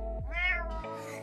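A pet cat meows close by, one drawn-out, rising and falling call lasting about a second, loud and clear with no talk over it.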